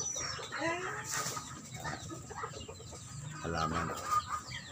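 Chickens cluck beside the wall of a house, several birds calling in short irregular bursts at close range, with someone talking over them.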